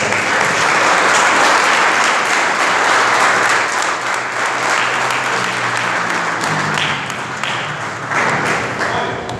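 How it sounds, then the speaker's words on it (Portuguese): A church congregation applauds loudly and steadily, a dense wash of clapping from many hands that fills the whole stretch without pause. "aplauda os céus bem forte"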